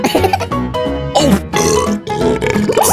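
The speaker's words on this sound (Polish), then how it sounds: "Co za beknięcie! To obrzydliwe!" A loud, drawn-out burp during a food-tasting challenge, deep and gurgling with grunting, rough bursts that rise and fall over a few seconds, close to the listener.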